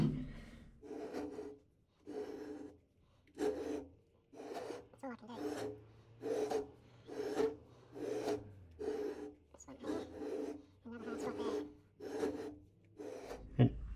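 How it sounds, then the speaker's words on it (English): Hard spots on a Mack E9 exhaust manifold are cut by hand while the part is rotated by hand on a lathe, producing about a dozen evenly spaced rasping scrape strokes, close and moderately loud. "So the only option I've got is to cut it by hand"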